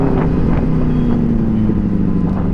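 A Benelli 600i motorcycle riding in traffic gives a steady, loud, low engine drone that runs without a break, with some wind rush over it.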